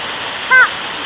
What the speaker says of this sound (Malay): Air terjun Telaga 7 ke?